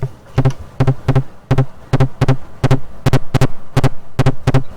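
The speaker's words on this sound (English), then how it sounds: "now let's hear how the distortion sounds on other sources. For example, on the toms." Tom drum hits through a guitar-pedal-style distortion, crunchy and booming, played in a steady pattern of single and double strokes, loud and alone with no talking.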